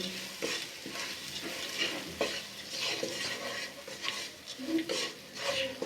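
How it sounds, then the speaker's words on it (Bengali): Masoor lentils with salt and turmeric frying in a pan, a continuous sizzle under repeated scraping and stirring strokes with occasional metal clinks from the utensil against the pan. "এখন আমি এগুলি একটু ভাজা ভাজা করে নেব"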